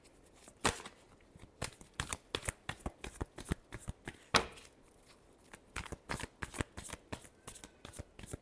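Tarot cards are shuffled by hand in a steady series of crisp riffling snaps and flicks, close and distinct. The bursts repeat for over eight seconds with short gaps between them.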